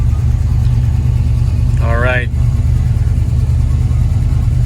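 A 1968 Chevrolet Camaro engine runs with a steady loud low rumble throughout, rising slightly as if revved, while someone briefly speaks over it.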